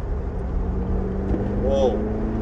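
A 2022 Volkswagen Polo GTI with DSG gearbox, just switched into sport mode, gives a steady low engine drone from inside the cabin that rises slightly near the end.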